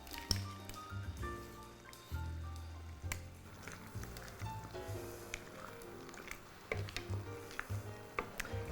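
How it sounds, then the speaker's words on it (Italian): Mussels tipped into a pan of garlic sauce for cavatelli with chickpeas, giving wet squelching clatters and shell knocks up close, with faint liquid bubbling and scattered clicks, and no talk. "ora è il momento in cui aggiungo le cozze"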